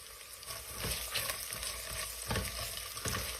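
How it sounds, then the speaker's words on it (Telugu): Sliced onions with slit green chillies and shahi jeera fry in hot oil, a steady close sizzle broken by scraping stirs every second or so, with no voices. "ఉల్లిపాయలన్నీ కొంచెం రంగు మారే వరకు ఫ్రై చేసుకోవాలి."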